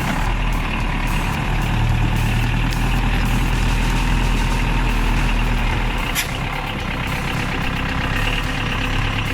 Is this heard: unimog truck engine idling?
yes